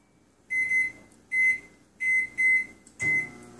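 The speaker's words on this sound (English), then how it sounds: "put them back in the microwave for another 20 seconds" A microwave oven melting chocolate chips gives a series of five short electronic beeps in an uneven rhythm, fairly quiet and close, with no talking.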